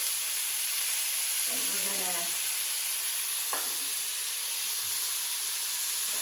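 Pork and asparagus stir-frying in a pan give a steady, broad sizzle and hiss throughout, with a couple of brief clinks or scrapes from stirring and no talk.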